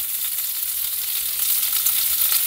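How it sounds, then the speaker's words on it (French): Meat searing in a frying pan on a camper-van stove, rendering fat: a loud, steady, bright crackling sizzle that swells slightly toward the end, with no talking. "C'est juste là, tu vois, pour bien les saisir. Ça rend un peu de gras, tu vois, dans la poêle."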